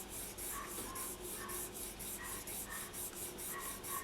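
A finger rubs up and down over metal leaf on polymer clay in a steady, close rhythm of soft dry strokes, about eight passes with a faint swishy rasp and no talking.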